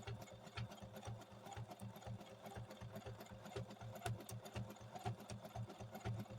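Sewing machine stitching around quilt fabric for a placemat or table runner, a steady rapid mechanical chatter running continuously and close throughout, with no talking.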